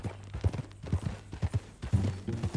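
Horse hooves clip-clop at a steady walking rhythm in the Red Dead Redemption 2 video game, a series of soft, close thuds repeating evenly throughout.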